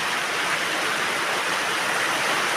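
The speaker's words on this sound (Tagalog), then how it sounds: "Bumuhos na naman ang malakas na ulan." Heavy rain pours down steadily, a dense, loud, uniform wash of noise that holds without a break throughout, with no voices present.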